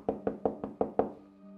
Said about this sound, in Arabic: يدق عليها في التابوت.